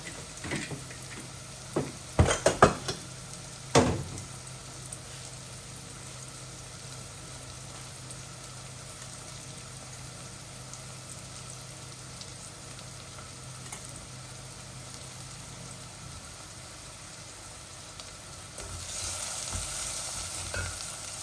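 Shrimp and vegetables with salt and curry powder stir-fried in a pan, a continuous sizzle with a few sharp clattering stirs early on, then steady frying that grows slightly louder near the end.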